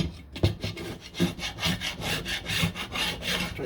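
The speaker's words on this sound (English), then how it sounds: "Try to scrape up as much as I can. Maybe I got a little bit of a better blade." A blade scrapes rhythmically along the door of a 1969 C3 Corvette, with repeated close, rasping strokes in a steady back-and-forth.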